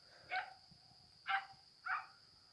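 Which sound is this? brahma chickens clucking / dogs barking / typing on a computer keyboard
dogs barking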